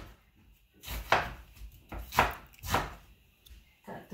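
An onion is chopped on a board in three or four firm, separate knife strikes, each a close, crisp thud with quiet pauses between.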